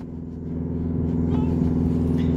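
A Tata Harrier and a Hyundai Verna 1.6 launching off the line in a road race, a steady close engine rumble that swells as they pull away, with people talking over it.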